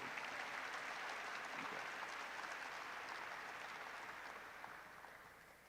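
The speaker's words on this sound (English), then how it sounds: "let's give all of them one more round of applause and a great big welcome to our new community" A university faculty convocation audience at CSUSB applauds in a sustained, fairly soft wash of clapping that slowly tapers off toward the end.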